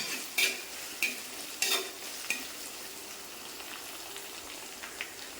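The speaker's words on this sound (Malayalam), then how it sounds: "ഞാൻ ഈ ചെറിയ ഉള്ളിയൊക്കെ ഇട്ട് കൊടുക്കുവാണേ ചെറിയ ഉള്ളി ഇട്ട് ഒന്ന് വഴന്ന് കഴിയുമ്പോൾ" Small onions sautéing in hot oil with ginger and garlic for a chili fish curry: a steady close sizzle and frying hiss, with a few sharp scrapes of a stirring spoon early on and no voices.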